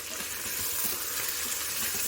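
Chicken fries in a Zaicon pressure cooker pot, giving a steady, even sizzle of hot oil that holds at a constant level throughout, with no voices over it.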